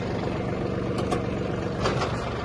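A Yanmar F-250 mini tractor runs its power take-off shaft, a steady low diesel drone with a constant mechanical hum and a few brief higher hissing bursts over the engine.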